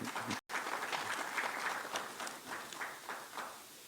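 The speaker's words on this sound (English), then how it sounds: "So a big round of applause for him as well." An audience at a press event on India's Economic Survey 2021-22 applauds steadily, a dense wash of many hands clapping after a brief cut, slowly tapering toward the end.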